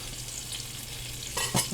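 Sausages browning in a frying pan for sausage and pepper sandwiches give a steady, close sizzle, with a couple of quick scraping stirs near the end.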